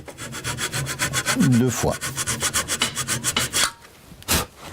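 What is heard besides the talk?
hand saw sawing wood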